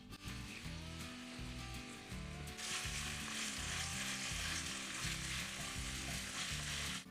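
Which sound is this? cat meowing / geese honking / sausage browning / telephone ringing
sausage browning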